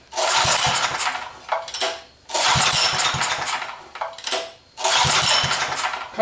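A four-wheeler ATV engine with sticking valves cranked repeatedly, three loud bursts of rough churning and sputtering, each cutting off after about two seconds, close by with no voices.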